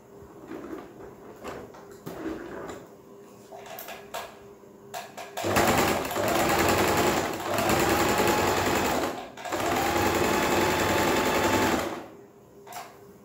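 An electric sewing machine stitches a cotton cloth carry bag in short runs, then two long loud bursts of rapid whirring, separated by brief pauses and quiet handling of fabric.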